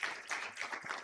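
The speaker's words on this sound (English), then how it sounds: "a round of applause to you, please." Applause for a presenter at a scientific session, a short, quiet burst of scattered hand clapping from a small audience.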